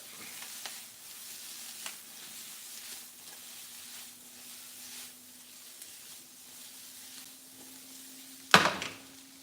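Steak and onions sizzling in a pan as they are mixed, a faint steady hiss with soft stirring scrapes and a sudden louder clatter near the end, no talk.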